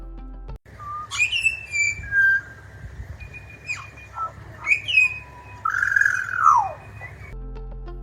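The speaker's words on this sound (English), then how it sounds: "The Pied Butcherbird sings with a voice that feels almost too pure for a bird with such a fierce reputation." A Pied Butcherbird sings a pure, flute-like melody of clear whistled phrases and gliding notes, close and alone over quiet background hiss.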